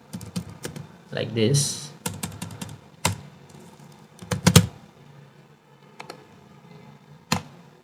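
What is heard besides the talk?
typing on a computer keyboard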